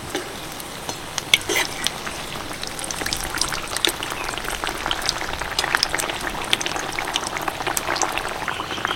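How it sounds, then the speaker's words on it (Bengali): Potato chops deep frying in hot oil make a steady, close bubbling sizzle with scattered crackling pops all through, and no voices. "পরপর কিন্তু আমি একইভাবে সবগুলো চপ ভেজে নেব"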